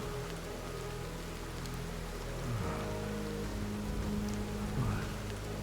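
Heavy, steady rain drums in a video game, a dense wash of downpour that runs unbroken and stays loud throughout, with a few low tonal swells from the game rising beneath it.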